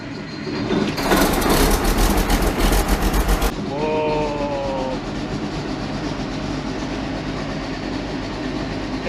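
An old combine harvester engine with about 4,288 hours cranks loudly for a few seconds, then catches and settles into a steady rumbling idle, close by with no talking.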